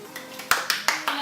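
A group claps hands together during a first tasting of Korean snacks. Four sharp, near unison claps come in a quick, even rhythm, close and loud, after a few softer taps.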